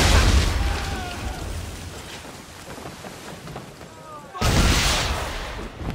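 A ship's swivel gun booms in the video game Assassin's Creed 3 amid a naval battle, with heavy blasts at the start and again near the end over rumbling background noise and voices.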